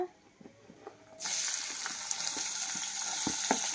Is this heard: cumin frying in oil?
yes